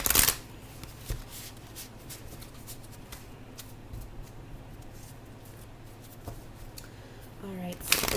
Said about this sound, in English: let's go ahead and shuffle my Muse cards and see what comes out for you